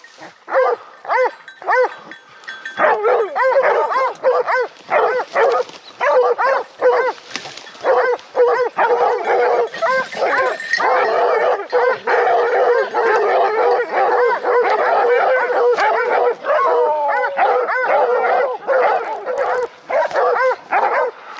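Pack of hunting dogs barking and yelping repeatedly during a wild boar drive hunt in the woods, a dense, continuous chorus of overlapping barks from several dogs at moderate distance.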